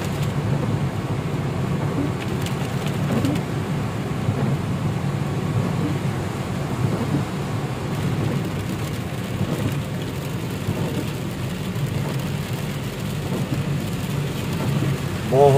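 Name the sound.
heavy rain in Madina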